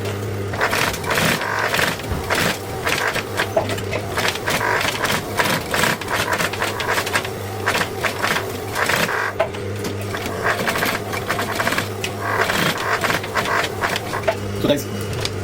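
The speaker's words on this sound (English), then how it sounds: "So we'll do the same thing again, just double stitch it." Sewing machine double-stitching a leather shoe during handmade shoemaking, running as a continuous fast mechanical chatter at close range for the whole stretch, with no pauses.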